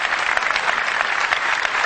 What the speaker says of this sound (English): I'd like to give him a round of applause.